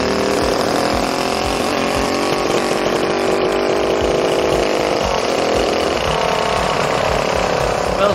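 Minibike with a DoodleBastard engine swap runs choppy at higher RPMs, its loud, close engine roar wavering unevenly throughout with a shift in tone partway through.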